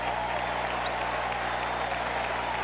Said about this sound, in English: the crowd cheers